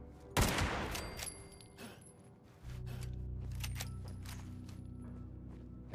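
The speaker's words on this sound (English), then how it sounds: "Let's bring out the lever action rifle." A lever action rifle fires in Fallout 76, a sharp, loud report followed by a second fainter shot, then a low rumbling game ambience takes over.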